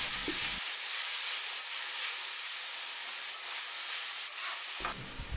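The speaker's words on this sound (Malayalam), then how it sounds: "സബോള പെട്ടെന്ന് വഴത്തി കിട്ടാൻ വേണ്ടി നമ്മൾ കുറച്ച് ഉപ്പ് ഇടുകയാണ് ഇത് നന്നായിട്ട് ഇളക്കി കൊടുക്കണം" Chopped onions with salt sizzle and fry in a hot pan, a steady close crackling hiss with faint stirring scrapes, briefly broken at the start and end by low clatter.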